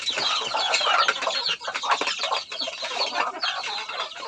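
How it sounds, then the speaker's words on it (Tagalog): Red junglefowl, a hen and a rooster, cluck and chatter together nearby, a busy overlapping mix of hen and rooster calls with no talking. "isang inahin at isang tandang. Ayan, puro labuyo din ito."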